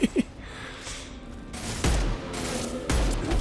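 Bursts of sci-fi gunfire in the video game Mass Effect 2 crack out in several sharp volleys against a low ambient game hum, fairly loud, with no speech.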